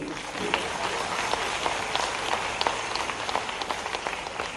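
An audience at a university opening ceremony in Bhopal claps in a soft, continuous patter, fairly distant and fairly quiet, with no voices standing out.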